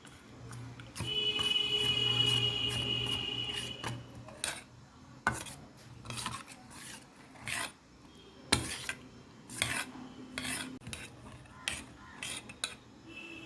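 Rice batter for papad is mixed in a bowl, giving intermittent scraping and rubbing strokes with soft clinks of a spoon, fairly close and irregular.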